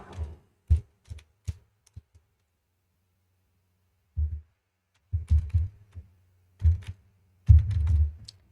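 Computer keyboard typing a file name, short bursts of close, fairly loud key taps separated by a silent pause, with no talking.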